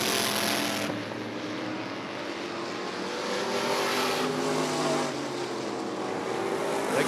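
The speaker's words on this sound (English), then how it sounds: "now past the halfway point of this race as Josh Lundy is bringing them around" Race cars circling Rockford Speedway during a bracket race, a continuous roar of engines swelling and fading as the pack passes, fairly distant, with no voices.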